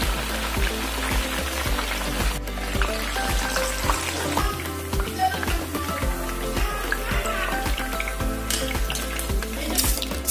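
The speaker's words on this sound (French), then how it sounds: "Là, je suis en train de faire torréfier nos poissons secs là." Crumbled dried fish toasts in a pan with a steady close crackle and sizzle, plus a rhythmic low scraping as it is stirred, no talk over it.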